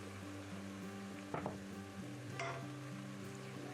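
Pork belly slices sizzle softly in a pan with salt, a quiet steady frying hiss under a low hum, broken by a couple of brief utensil clinks, and no talk.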